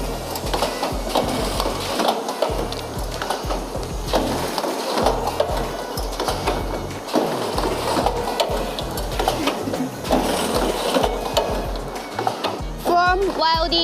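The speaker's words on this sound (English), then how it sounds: "And this one is Rich's semi-automatic headband welding machine." A semi-automatic headband welding machine for folding face masks runs steadily in a factory, with continuous mechanical clatter and rhythmic rattling throughout, loud and close, and a brief faint voice near the end.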